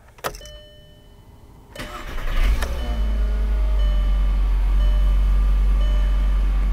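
A car engine cranks briefly and then starts, settling into a steady, loud idle rumble that continues to the end. There is no talk.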